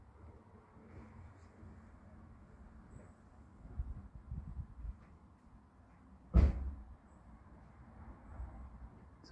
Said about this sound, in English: It's a car door shutting.